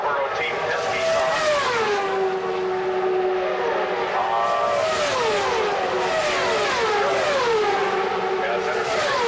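IndyCar race cars, including the Marlboro Team Penske car, screaming around the oval at the 2000 Michigan 500, several high-pitched engines sweeping down in pitch as they pass, under continuous race commentary.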